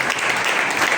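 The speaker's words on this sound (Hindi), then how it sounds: "जोरदार तालियां बजाएं" Dense audience clapping at a church service fills a short moment, a loud, even wash of hands close by.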